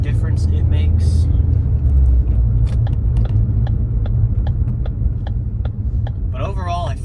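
A Ford Focus ST fitted with a CPE Stage 2 rear motor mount accelerates onto a main road, its engine a loud, steady low rumble in the cabin, broken by small clicks and knocks, with someone talking over it.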